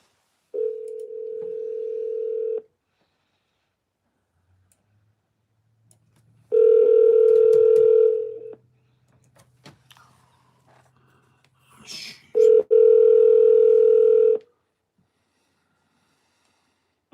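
An Alexa device places a phone call, and three long steady ring tones sound at a moderate level with quiet gaps between them.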